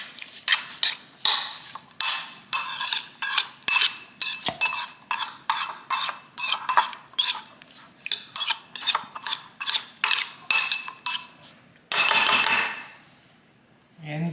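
Spices and salt being mixed in a bowl with a utensil, a run of rapid rhythmic clinks and scrapes close up, ending in a brief louder rustling burst, with no talking.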